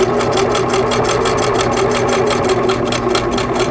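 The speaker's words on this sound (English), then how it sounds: "Begin to sew so that the needle is going halfway onto the applique and halfway out to the fabric." A Singer sewing machine stitching an applique onto quilt fabric, a loud, close, continuous motor hum with a fast rhythmic needle patter throughout.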